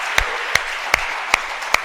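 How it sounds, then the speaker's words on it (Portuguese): Church congregation applauding during a Portuguese-language sermon, a sustained hiss of clapping punctuated by five evenly spaced sharp accents, steady and fairly close. "Você pode aplaudir mais uma vez? Aplauda Ele com alegria."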